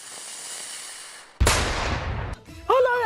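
A bomb blast in a comedy movie scene bursts suddenly after a quiet hum, roars loud and close for about a second, then cuts off abruptly before a short vocal cry.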